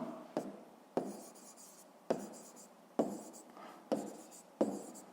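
Handwritten math solution being worked out, with six distinct pen-stroke bursts roughly every second, each a sharp scratch trailing into softer writing, close and fairly quiet with no talk.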